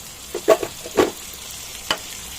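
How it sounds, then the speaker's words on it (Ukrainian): Water is poured over stewing onions in a hot pan, giving soft sizzling and stirring sounds with a few louder bursts over a low, steady background. "Доливаю трохи водички."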